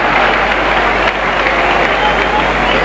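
Steady, dense crowd applause and noise at a 1989 Pakistan versus India Test match in Faisalabad, loud and continuous throughout, with a commentator's voice mixed into the roar.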